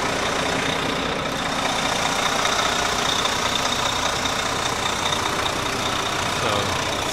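A Greyhound bus engine idles close by behind the bus, a steady low rumble with a faint high whine running evenly throughout and no talk over it.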